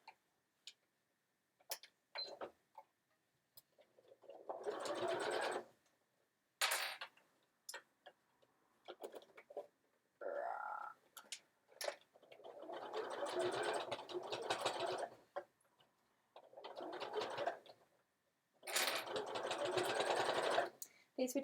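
A sewing machine stitching a Sew Together Bag in several bursts of rapid, even whirring, separated by pauses with soft handling clicks and a little quiet talk.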